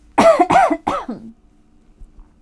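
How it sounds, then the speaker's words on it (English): Three loud, close coughs in quick succession, then near silence. "Excuse me, I have to cough."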